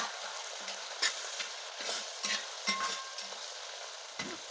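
Garlic, ginger and green chillies frying in sesame oil for a beetroot pickle, stirred with steady scraping strokes over a soft continuous sizzle; no voices.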